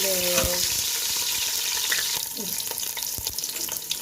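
Chunks of beef fat sizzle in a pot as they are stirred, a steady close frying hiss with scraping and clinking of the spoon, the sizzle easing a little toward the end.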